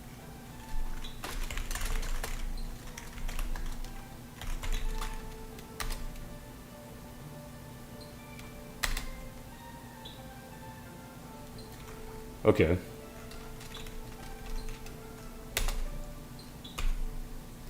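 Computer keyboard keys are tapped in scattered bursts while a test script logs each keypress, with louder isolated clacks between runs and a brief spoken word near the start.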